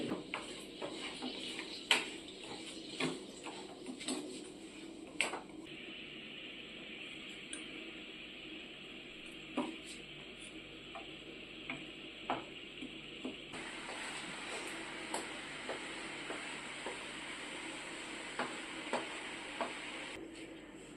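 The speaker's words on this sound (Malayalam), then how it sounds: "ഇനി ശർക്കരയും തേങ്ങയും കൂടി കൂടി വരച്ചെടുത്ത് കുറച്ച് ഏലക്കാപ്പൊടി ചേർത്ത് നമുക്ക് മിക്സ്" A spoon stirring jaggery, grated coconut and cardamom powder together in a pan for kozhukatta filling, with repeated light scraping clicks at an uneven rhythm over a soft, steady sizzle and no speech.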